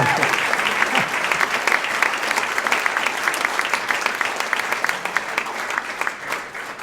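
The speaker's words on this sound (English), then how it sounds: "Go ahead, applause." A seated audience at a business event breaks into sustained applause, a dense, even wash of clapping that holds steady for several seconds before thinning slightly at the end.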